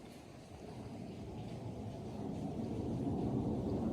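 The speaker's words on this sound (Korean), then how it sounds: "비행기 지나가는 소리가 엄청 크게 들렸다." An airplane passes overhead near a waterfall at a backcountry camp, a broad low rumble that slowly grows louder over the rushing water, with no voices.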